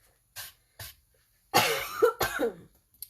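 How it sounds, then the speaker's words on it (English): Two faint breaths, then a couple of harsh, close coughs in quick succession from someone with allergies, followed by a small throat sound. "now that I coughed, I'm not going to be able to stop coughing"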